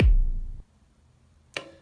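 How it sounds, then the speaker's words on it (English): A deep, booming electronic kick drum rumble sample, resampled with reverb, that decays over half a second, then silence before a second sharp, brighter hit. "here's what I've got for the kick rumble."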